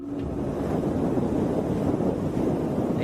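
Steady wind roars across the microphone on a windy night in Spain, a dense continuous low rumble with no breaks, loud and close throughout.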